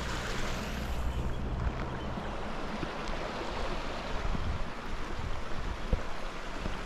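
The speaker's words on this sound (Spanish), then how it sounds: "Aquí tenemos otro rillito, miren, este está más grandecito" Small mountain stream near Mormon Rocks in Wrightwood flowing steadily, a continuous broadband rush of water close by, even and unbroken with no voices.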